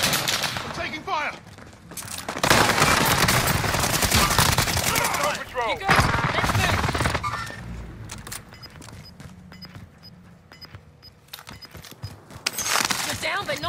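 Rapid bursts of automatic gunfire and scattered shots in a Call of Duty Vanguard battle-royale match, loud and dense in stretches that drop to quieter gaps, with in-game voice callouts over the action.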